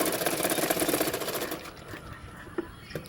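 A sewing machine runs steadily while stitching a 32-size double katori blouse, a fast rattling whir up close for about a second and a half, then stops, leaving a couple of faint clicks.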